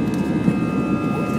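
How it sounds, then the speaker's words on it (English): Heard from inside the cabin, an airplane taking off makes a loud, steady, broad roar of engines and rushing air with no pauses. "We're taking off!"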